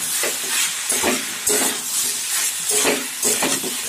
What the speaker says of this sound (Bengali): 30 সেকেন্ড মতো এইভাবে নেড়ে ফেলে মশলাটাকে একটু তেলে ভেজে নিয়ে